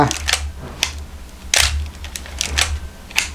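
A Nikon F3 film camera fires its shutter several times in quick succession, each crisp mechanical snap paired with the ratchet of the film advance lever, close up with brief pauses between shots.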